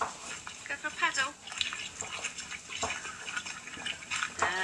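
A dog named Kimmy paddles in clear, shallow water, sending up light irregular splashes and sloshing. The splashing is moderately close and fairly quiet, with a voice talking faintly over it.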